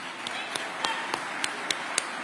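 Sparse, evenly spaced claps ring out in a room at a Veterans Day breakfast, about seven sharp hand claps over a low background murmur, fairly faint and unhurried.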